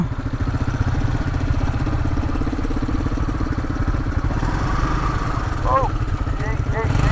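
A motorcycle rolls off-road down a steep dirt hillside, its engine giving a steady, close, low putter that holds an even rhythm throughout.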